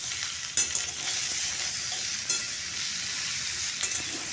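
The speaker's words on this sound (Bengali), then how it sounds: "স্বাদ মতো নুন দিয়ে দিলাম দিয়ে আবারও একটু ভালো করে মিশিয়ে নিচ্ছি নুনটাকে" Beans and potatoes with salt are stirred in a sizzling pan. A continuous frying hiss is interrupted by a few scraping strokes of the spoon against the pan, all close up with no talking.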